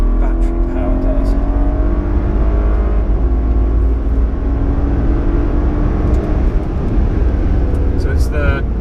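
BMW 7 Series Hybrid with a 4-litre twin turbo engine and electric motor accelerating in third gear, a loud steady engine drone rising in pitch under continuous road noise, heard from inside, with someone talking over it.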